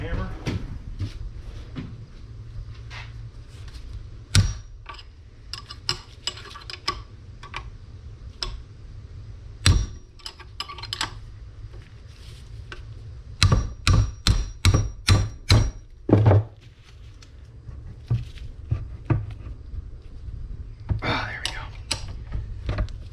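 Sharp metallic hammer blows ring out in irregular bursts, including a rapid series of about six strikes, on a tight rear brake caliper of a Suzuki Kizashi, over a low mechanical hum with occasional talk.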